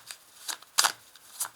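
Symbolon tarot cards being shuffled by hand, a few quick riffling and sliding bursts heard up close over a short stretch.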